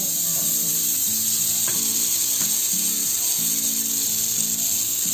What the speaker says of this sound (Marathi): बटर कसं तव्याला ते गोल जातो.